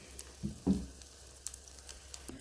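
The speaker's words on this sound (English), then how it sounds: "while I'm making the chiles rellenos on the oil" Egg-battered chiles rellenos fry in oil with a faint, steady sizzle, broken by a few soft pops and scattered crackles close by.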